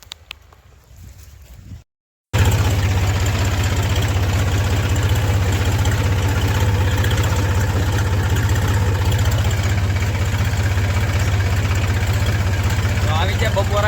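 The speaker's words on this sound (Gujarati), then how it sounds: "આમાં ટ્રેક્ટર આવડતું છે નહીં, પણ જેમ તેમ કરીને હાંચીએ છીએ." A tractor ploughs a farm field, its engine a loud, steady low rumble that starts abruptly after a short gap and runs continuously, with speech likely heard beneath it.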